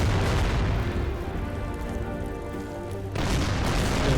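Naval artillery from a support warship in Order of Battle: Pacific, a heavy sustained roar of booming fire that dips briefly then surges again, loud and close with no talking.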